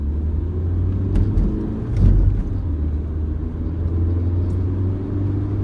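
A Hyundai Getz 1.5 CRDi diesel accelerating at half throttle in second gear, heard as a steady low engine drone and road rumble from inside the car, rising slightly around the two-second mark.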